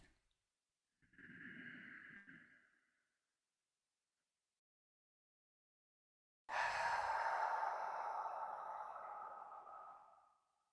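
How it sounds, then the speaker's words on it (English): A deep breath drawn in quietly through the nose, a pause of silence, then a long, loud, airy exhale that trails off slowly, close and alone. "One more time, take a deep breath."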